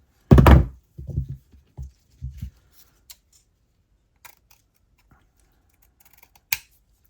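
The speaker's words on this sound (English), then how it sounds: "I'm gonna take my ribbon and cut a piece to approximately the right size" Scissors slice through a length of wired ribbon: a sharp, loud first cut, then several shorter snips, followed by faint light taps and a final crisp click, with no talking.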